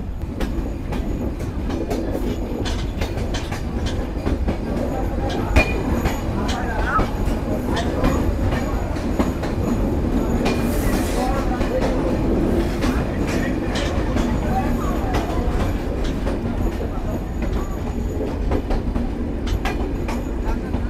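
Kapotaksha Express passenger train running steadily after departing Poradah Junction toward Khulna, a continuous loud rumble of wheels and carriages with faint rail clatter throughout.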